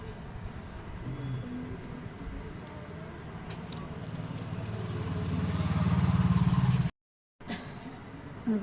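An embroidery machine runs steadily while stitching mirror work onto a blouse, its motor hum building to a louder rapid whirring before a brief cutout, with a faint voice in the background.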